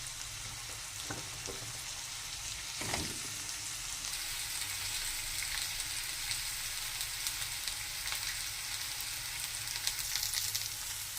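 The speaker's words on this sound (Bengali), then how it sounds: "পেঁয়াজ কুচির মধ্যে আলু দিয়ে দেবো" Potatoes frying with chopped onions in a pan give a continuous, even sizzle, with a couple of sharp utensil clanks early on before the hiss carries on alone.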